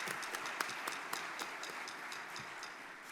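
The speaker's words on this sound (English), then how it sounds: "one more round of applause" An audience at an annual family and private business awards ceremony applauds, giving a steady wash of many hands clapping with a few sharper claps standing out, held at an even level throughout.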